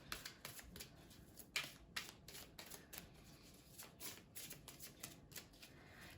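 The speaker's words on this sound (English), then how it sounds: "I'm going to pick you a goddess oracle card" Goddess oracle cards being shuffled and drawn, with soft, irregular riffling and flicking taps, and a slightly sharper snap partway through, all quiet and close with no talking.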